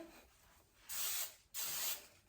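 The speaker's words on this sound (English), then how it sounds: "I like to spray before and after I start curling, just to kind of help it hold a little better" Two quick bursts of hairspray misted onto hair before curling, each about half a second, close and hissing, with quiet gaps between.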